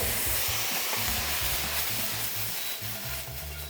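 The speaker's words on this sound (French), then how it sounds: "on prend notre fidèle vinaigre de feu pour venir déglacer le tout" Hot pan hissing and sizzling as fire vinegar is poured in to deglaze it, a loud steady bubbling spatter with faint scraping underneath, heard alone without voices.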